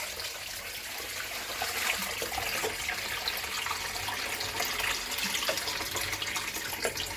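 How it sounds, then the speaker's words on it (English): Continuous cold running water splashes and sloshes close by while raw chicken is washed and the water poured off, steady and unbroken with no voices. "Wash the chicken. Thoroughly with cold water and pour it out."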